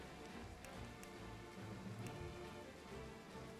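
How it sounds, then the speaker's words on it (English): Rainstorm spell cast in the tactics video game Triangle Strategy: a steady, dense patter of rain on a surface fills the whole stretch at an even, moderate level, with a few brief sharper drops. "Rite of Rain again. Which I thought, it says summon a rainstorm for 5 turns."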